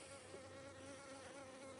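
Dense, steady buzzing of many honey bees swarming around an opened hive during a Demaree split inspection, continuous and close, with no voices.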